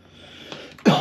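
One sharp, fairly loud cough bursts out near the end from someone close by, after a stretch of near quiet.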